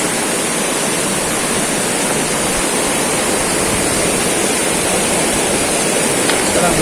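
A river with a strong current rushes over rocks in General Nakar, Quezon, a loud, dense and steady roar of water with no pauses, close at hand and filling the whole clip.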